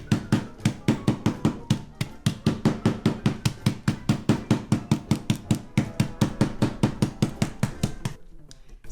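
A hammer pounds ingredients for peanut butter balls in a fast, regular run of sharp close thuds that continues for several seconds and then stops abruptly.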